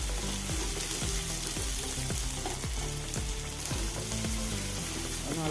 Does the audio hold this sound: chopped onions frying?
yes